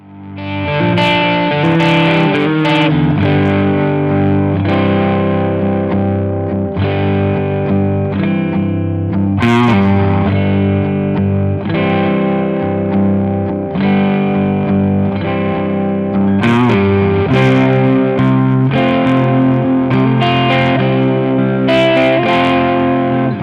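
An electric guitar played through a modified Marshall 1959 Plexi amp set for a bluesy, overdriven tone rings out in loud, sustained chords and bends with distortion and some reverb, continuous for over twenty seconds with no talking.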